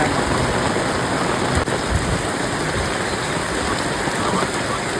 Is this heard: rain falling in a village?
yes